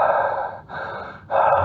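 Slow, deliberate breaths in and out during a breathwork exercise, close and clear with no talking: two long airy breaths separated by short pauses, then a third beginning.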